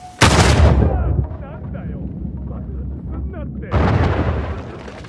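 A loud, sudden blast bursts out in the video game Uncharted 4, decays into a rumbling tail, then a second surge of roaring debris follows, with voices speaking throughout.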